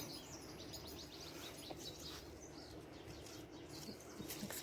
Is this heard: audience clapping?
no